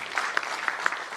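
Brief burst of audience applause at a Delhi fintech meetup, a short patter of individual claps, moderately loud and close.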